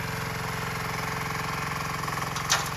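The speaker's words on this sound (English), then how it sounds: "he's got his digger working again, the little mini excavator." A small mini excavator's engine runs steadily at a close, even idle, its low regular firing pulse continuous throughout, with a brief higher burst of noise near the end.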